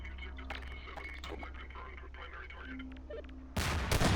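A grenade blast in the Half-Life Prospekt game: after quiet game ambience, a sudden loud, broad explosion bursts in near the end and rumbles on in two close heavy surges.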